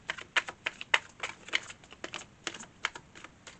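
Tarot cards being shuffled by hand, a close run of soft papery riffles and slaps in uneven bursts, fairly quiet with no talking.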